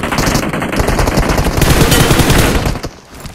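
Sustained rapid gunfire in PUBG Mobile, loud dense volleys of shots rattling almost without pause before trailing off near the end.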